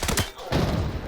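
Rapid automatic gunfire with M62 rounds in the shooter Arena Breakout: Infinite, a short loud burst of close shots followed by a second volley within about a second.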